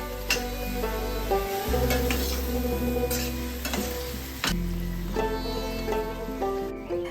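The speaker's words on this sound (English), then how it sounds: "Add a handful of cashews and mix." Cashews stirred and sautéing in infused oil for chicken biryani, a continuous sizzle with intermittent scrapes of a spatula against the pan, heard close beneath steady background music and with nobody talking.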